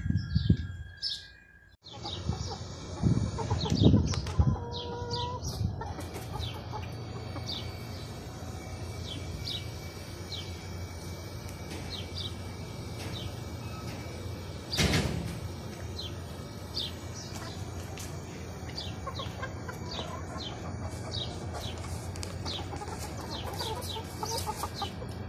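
Chickens and roosters kept in Saudi Arabia cluck and chirp continuously nearby. A few louder calls and some handling noise come early, and the flock chatters on steadily throughout.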